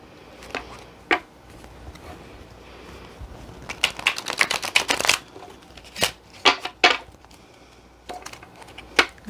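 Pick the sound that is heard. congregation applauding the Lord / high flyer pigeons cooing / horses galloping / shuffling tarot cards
shuffling tarot cards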